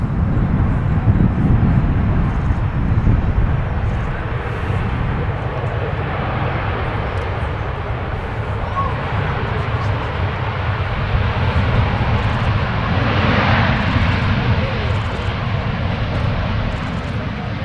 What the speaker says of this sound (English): Beautiful blue aircraft here, the KLM 737.